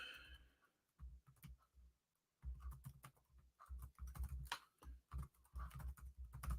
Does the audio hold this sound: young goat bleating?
no